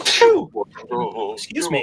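A single sharp sneeze bursts out nearby, followed by a person speaking.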